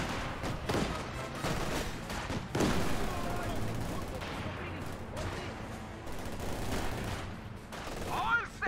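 Flak half-track firing its anti-aircraft guns at infantry in a war video game, rapid bursts of gunfire crackling through a busy battle mix alongside distant explosions and voices.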